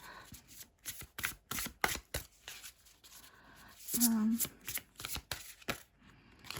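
Tarot cards being shuffled by hand in a rapid run of crisp riffling flicks, close and fairly loud, with a brief voiced sound partway through.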